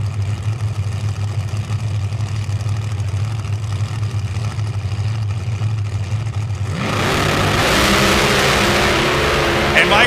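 Pro Modified drag race cars in first-round eliminations at a drag strip, a steady mid-pitched engine drone that swells into a louder, brighter roar near the end as the cars launch and accelerate.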